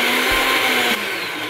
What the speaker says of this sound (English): You can use a food processor or a blender here.